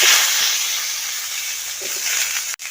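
Hot mustard oil seasoned with a dried red chilli and panch phoron hisses and sizzles steadily as potatoes go into the pan, a loud close frying sound that ends with a sharp click.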